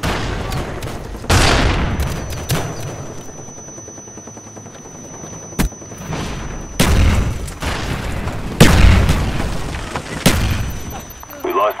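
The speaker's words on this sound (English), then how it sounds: "Sam turret ready for delivery. Mark the DZ. Friendly Sam turret inbound." A SAM turret is delivered and fires in a Call of Duty multiplayer match: heavy booming launches and blasts ring out at intervals over a low rumble, with game voices faintly in the background.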